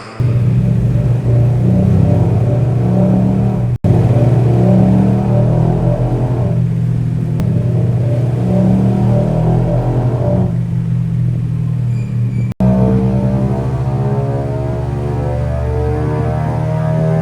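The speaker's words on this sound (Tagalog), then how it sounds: "maugong yung motor natin, yung tambucho natin" A 2021 Yamaha NMAX scooter fitted with an aftermarket exhaust pipe idles steadily and close by, giving a continuous low, throaty drone with a faint rhythmic pulse that holds unchanged throughout.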